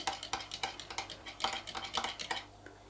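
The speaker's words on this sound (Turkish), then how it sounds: "Sıcak suyumu koydum ve güzelce karıştırıyorum" A spoon stirring instant coffee mixture dissolved in hot water, clinking steadily against the cup in a quick rhythm of about ten close, light taps.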